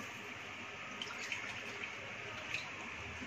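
Measured bowlfuls of water poured into a pot of masala veg khichdi, a steady soft splashing and trickling stream with a few small drips, close and moderately quiet throughout.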